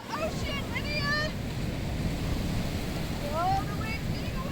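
Ocean surf washes steadily at New Smyrna Beach, a continuous broad roar mixed with wind, while distant high voices chirp and squeal briefly.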